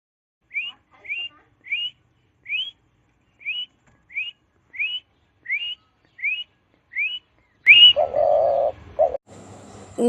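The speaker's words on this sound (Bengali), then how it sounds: "ঘুঘু পাখি ডাকছে গাছে" A dove in a tree calls repeatedly in short, evenly spaced whistling notes, about ten in a row, clear against near silence, followed by a brief burst of other noise.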